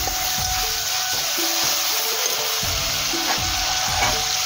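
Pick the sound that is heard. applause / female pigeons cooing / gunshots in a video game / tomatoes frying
tomatoes frying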